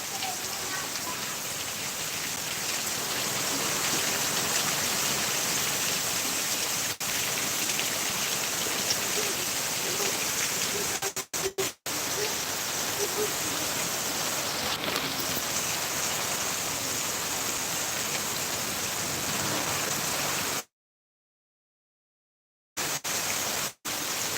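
Heavy rain pours onto a rooftop terrace, a loud, dense, steady hiss of drumming water that continues without letup and briefly cuts out near the end.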